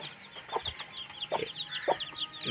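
Chickens cluck softly in short, scattered bursts, with faint high peeping chirps of three-day-old chicks running throughout; quiet and close, no talking.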